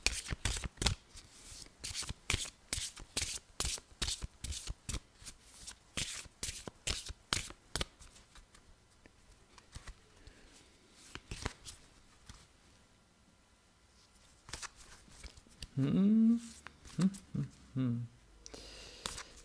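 Tarot cards being shuffled by hand, a rapid series of crisp riffling flutters that later thins to sparse shuffles, with a person speaking briefly near the end.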